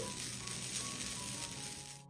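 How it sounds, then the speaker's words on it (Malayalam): Soft, steady sizzling of grated coconut dry-roasting in a pan, a low continuous crackle with no voices. "ഈ തേങ്ങയുടെ വെള്ളത്തിന്റെ അംശമൊക്കെ ഒന്ന് മാറി കിട്ടുന്നത് വരെ ഇതുപോലെ ഒന്ന് വറുത്തെടുക്കാം"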